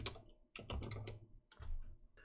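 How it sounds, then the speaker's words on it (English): Someone types on a computer keyboard in a quick, close cluster of key clicks that come in short bursts with brief pauses between them. "And so I'm going to type infogamer."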